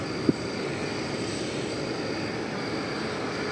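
A large jet airliner taxiing at DFW Airport after a long flight from South Korea, a steady distant engine roar and whine with a single brief click near the start.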